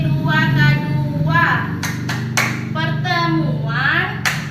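A group of women claps hands in a rhythmic clap chant during a community training session, sharp clustered claps punctuating their loud chanted voices in a repeating pattern.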